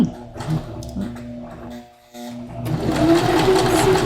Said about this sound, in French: je vais faire là, mes 5-6 points à l'aide du pied de la pédale de la machine.